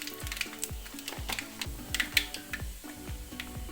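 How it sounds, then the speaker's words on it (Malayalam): Mustard seeds pop in hot, ginger-fried oil with quick, irregular crackles and snaps over a soft, steady sizzle, close and fairly quiet. "കടുക് പൊട്ടി വന്നിട്ടുണ്ട്."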